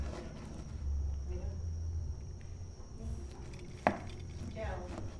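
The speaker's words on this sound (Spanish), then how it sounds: "Vamos a cortar aquí." Knife slicing through cooked picanha (coulotte) beef on a board, with a crisp cutting stroke and one sharp tap against the board, heard under a man's Spanish speech in a quiet kitchen.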